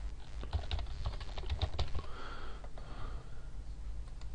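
Keystrokes on a computer keyboard as a password is entered into email software, a short burst of quiet clicks in the first two seconds over steady low room hum, then only faint background noise.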